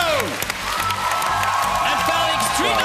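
Audience applause at the Eurovision Young Dancers 2013 show, a steady wash of clapping with cheers and whoops mixed in, sustained and fairly loud through the moment.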